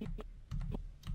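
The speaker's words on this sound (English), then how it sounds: "I'm using my arrow keys. I'm using spacebar to play forward." Computer keyboard keys are pressed in a quick irregular series of distinct close clicks, about five or six taps, with no talking.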